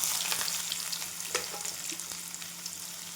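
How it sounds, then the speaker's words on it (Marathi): Chopped onion frying in a pan with cumin, a steady close hiss of hot oil with small crackles and occasional light stirring taps, no voices. "कांदा पण छान भाजून घेऊ."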